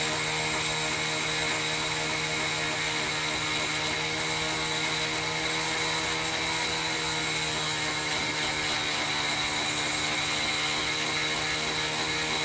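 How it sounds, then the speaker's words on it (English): Dremel rotary tool cleaning a part from an Aurora Tjet slot car: a steady, high-pitched motor whine with tonal harmonics runs loud and unbroken close to the microphone throughout. "take a second and show what a Dremel can do for you"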